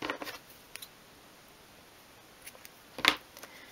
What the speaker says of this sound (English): fold the plait in half like that and snip it in half, and then cut the knot off as well